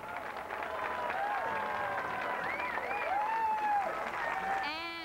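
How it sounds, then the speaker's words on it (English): An enthusiastic outdoor crowd applauds steadily at the base of Mount Rushmore, with a sustained wash of clapping under a voice speaking over it. "We still have a very enthusiastic crowd here as we are at the base of Mount Rushmore"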